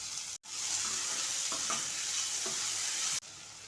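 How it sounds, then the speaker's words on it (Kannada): Chopped vegetables and tomato are stirred in a pan for a chow chow bath, giving a steady sizzle with soft spoon scrapes at intervals and two brief cutoffs. "ಎಲ್ಲ ತರಕಾರಿನೂ ಮಿಕ್ಸ್ ಮಾಡ್ಕೊತಾ ಇದ್ದೀನಿ"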